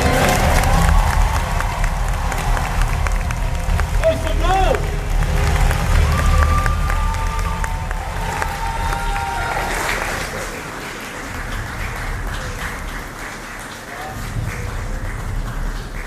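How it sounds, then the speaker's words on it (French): Studio audience at a talk show applauding and cheering as three guests arrive, a dense roar of clapping that thins out partway through while a voice talks over it. "vous pouvez arrêter d'applaudir, c'est bon"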